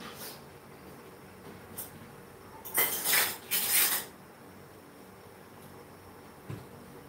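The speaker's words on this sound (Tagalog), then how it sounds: "gumamit na ako ng sandok na kahoy kasi sabi mo maingay." A wooden ladle stirring in a cooking pot: quiet background, then a few sharp scraping clatters bunched in the middle, with faint knocks before and after.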